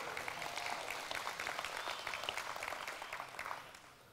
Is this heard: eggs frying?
no